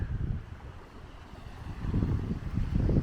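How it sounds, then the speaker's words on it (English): Gusty wind at a beach buffets the microphone in low, rumbling bursts, easing midway and then swelling louder toward the end, with no other clear sounds. "Mind you, it's windy."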